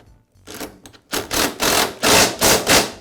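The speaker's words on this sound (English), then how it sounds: "I'll tighten the bolt." A ratchet wrench tightens a bolt on a Toro lawn mower during a rear baffle repair, giving a close series of sharp, rhythmic clicking bursts that get louder toward the end.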